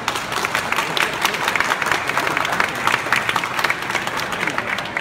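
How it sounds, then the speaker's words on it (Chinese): An audience at a Gunpla Builders World Cup 2015 award ceremony in Taiwan applauds, a dense, sustained patter of many hands clapping that stays loud and even throughout. "可以先给自己一个掌声好吗？"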